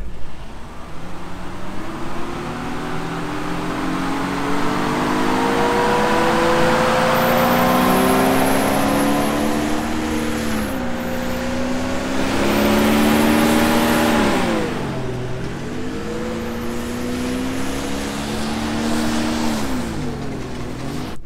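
A truck engine revs steadily under load on a downhill, wheels digging in, pitch swelling and sagging as it strains, with a gritty, churning noise running underneath throughout.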